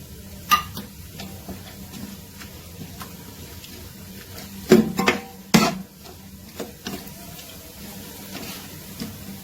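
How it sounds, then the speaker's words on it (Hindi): Finely chopped onions are tipped into a pot and stirred, giving soft clinks of a spoon and a few louder scraping knocks against the pan over a faint background hiss, with no voices. "तो अब इसमें डाल लेते हैं ये कटी हुई बारीक प्याज।"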